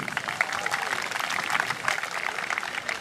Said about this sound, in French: Vous pouvez les applaudir, merci.